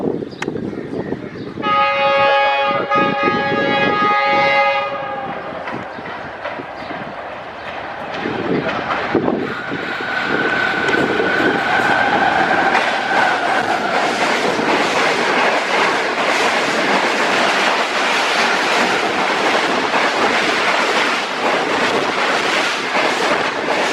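A Pakistan Railways high-speed train with a G40 locomotive roars through Jungshahi railway station in Sindh, sounding its horn loudly before a long, rushing clatter of passing wagons over wind noise.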